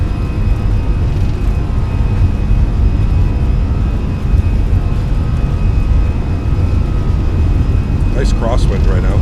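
Airbus A320 jet engines at takeoff power during a simulated takeoff roll, a loud, steady, broadband roar that holds unbroken throughout, with a few brief higher chirps near the end.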